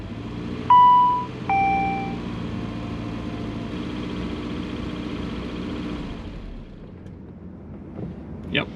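A 2004 SAAB 9-5 running on LPG idles with a low steady engine drone after two electronic beeps, then the sound drops away abruptly as the engine dies, leaving near silence.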